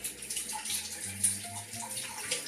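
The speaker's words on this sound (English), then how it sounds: "Just put your hand over the jar and you just strain them, the water out." Soaking water being strained from soaked cashews out of a jar held under a hand, a quiet continuous pouring and trickling splash with faint gurgles, close and low in level, no talking.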